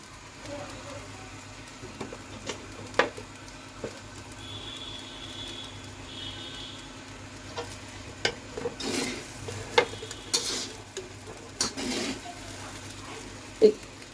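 Fried rice and ghee stirred in a large wok (kadai), with irregular spatula scrapes and clanks over a soft steady sizzle, close by and moderately loud, with no speech.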